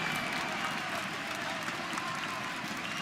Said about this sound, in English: The crowd's in rapture.